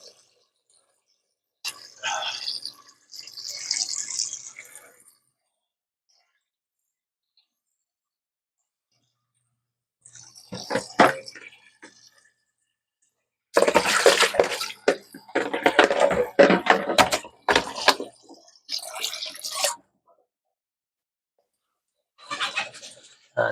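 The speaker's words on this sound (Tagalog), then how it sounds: "Lagyan natin ng tubig" Water is poured into a cooking pot in short bursts separated by silences, a splashing, gurgling pour that grows fuller and louder in the later bursts.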